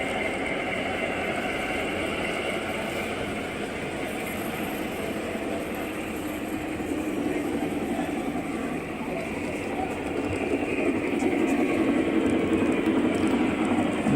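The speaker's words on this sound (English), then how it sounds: "And that's what is making the sound, like a real engine." Model trains running at a model train museum, a continuous rumbling rail clatter with a soft steady mechanical whir that grows a little louder toward the end.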